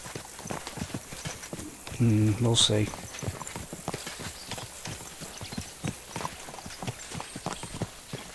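A horse's hooves clip-clop at a steady walking rhythm in the Kingdom Come Deliverance 2 video game, close and continuous, with a brief spoken line over the top.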